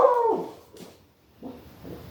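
A dog whimpers and yips in short bursts, reacting to a passing airplane, with a high whine at the start and two later cries after a brief pause, close and fairly clear.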